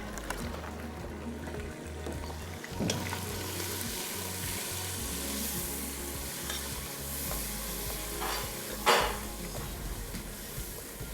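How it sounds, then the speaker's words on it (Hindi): Goat liver and meat fry with spices in a pan, a steady close sizzle broken by repeated stirring scrapes and a few louder clanks, with no talk. "तकरीबन 30-40 सेकंड तक आपने इसको भूनना है ताकि जो गोश्त है उसमें अच्छा फ्लेवर आ जाए मसालों का।"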